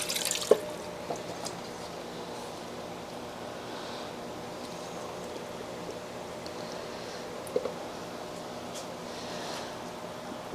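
Water drips and trickles softly while a potted Dischidia ovata is watered during repotting and pest treatment, with a few sharper drip clicks over a faint, steady background.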